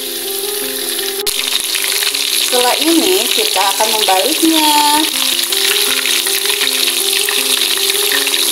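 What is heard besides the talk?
flour-coated chicken frying in hot oil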